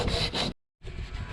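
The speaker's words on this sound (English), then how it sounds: "just sanding away" Coarse rasping strokes of sanding on wood, two quick passes, a brief silence, then sanding resumes steadily and close by.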